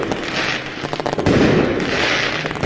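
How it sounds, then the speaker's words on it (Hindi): Firecrackers bursting during Diwali celebrations, a dense crackling rattle of rapid pops mixed with a couple of heavier booms, close and loud throughout. "बच्चों ने खूब पटाखे फोड़े"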